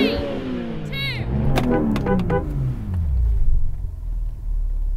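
A BMW M5 V10 Touring engine revs up with a rising roar, then settles into a deep, heavy rumble that lingers, loud and close.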